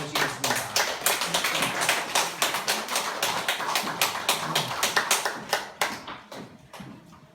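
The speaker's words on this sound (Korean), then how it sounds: "박수로 모시겠습니다" Applause from a lecture audience greeting the speaker at a Buddhist philosophy talk, dense clapping from many hands that thins out and fades toward the end.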